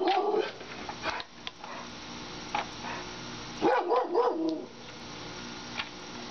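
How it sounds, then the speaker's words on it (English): A dog barks repeatedly at close range in sharp irregular bursts, with a couple of whimpering yips between, in an indoor space. "Please stop barking."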